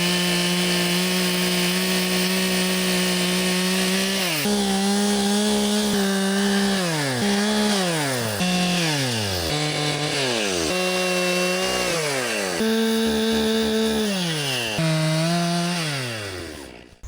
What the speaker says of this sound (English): I'm done with the chainsawing